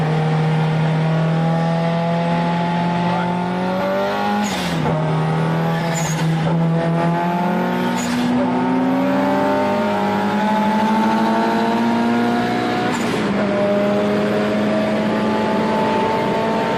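A LADA 2104 drag car with roughly 420 horsepower accelerates hard, its engine wailing up through several rising gear pulls with sharp shift breaks, loud and close throughout.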